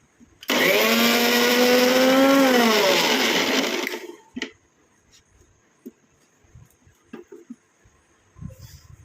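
A kitchen mixer grinder whirs loudly for about three and a half seconds as it blends homemade herbal hair dye ingredients, its motor pitch wavering, then stops, followed by scattered clicks and knocks of the jar being handled.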